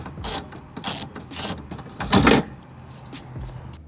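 A hand ratchet loosens 10mm nuts through access holes on the window clamp of an MK3 Jetta GLX door, giving four distinct close bursts of rapid clicking with short pauses between them, then fainter ticks.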